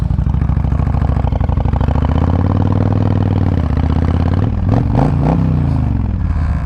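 A 2007 Honda VTX1300 Champion trike engine running with a loud, steady, deep rhythmic rumble up close, then a pitch dip and a few mechanical clunks as the gears shift, and the revs settle again.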